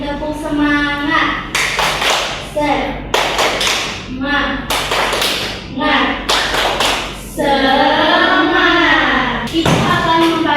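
Schoolchildren in a classroom clap out the rhythmic tepuk semangat pattern in quick sharp bursts, alternating with chanted group voices and a teacher speaking.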